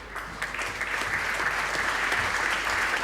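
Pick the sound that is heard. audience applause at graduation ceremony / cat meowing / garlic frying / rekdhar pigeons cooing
audience applause at graduation ceremony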